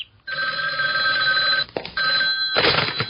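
A telephone bell rings in loud, sustained bursts with a short break partway through, alone with no talk.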